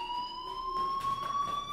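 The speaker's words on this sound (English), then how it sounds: "do you hear that fire alarm? That means you should be outside." School fire alarm in the Life is Strange video game, a sustained electronic tone ringing steadily at moderate volume with no voices over it.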